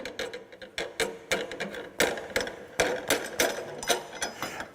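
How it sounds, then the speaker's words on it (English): A lathe spindle draw bolt is loosened in a fitting and turning workshop, giving a close run of rapid ratcheting clicks and mechanical ticks in uneven bursts. "they'll loosen it, loosen the draw bolt completely"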